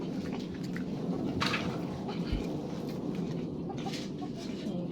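Chickens clucking as they eat, with soft, scattered clucks from a few birds over a steady outdoor background hiss and a low thump, and no clear talking.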